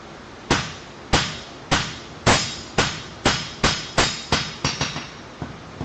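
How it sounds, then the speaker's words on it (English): A blacksmith forge welding, hammering hot metal with about eleven sharp, ringing blows at a steady rhythm, each blow close and loud with a short decaying ring, the strikes coming a little faster toward the end. "you want to forge weld it in the right way"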